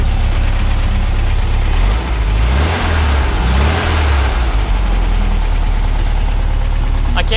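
A newly installed car engine idles and is revved a few times, a loud close rumble that swells and falls under steady running.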